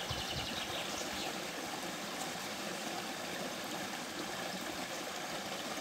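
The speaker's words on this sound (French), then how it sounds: "Je suis vraiment au pied de la rivière" A river flowing at the water's edge, a faint, steady rushing wash with soft low rumble, continuous and unbroken with no voices.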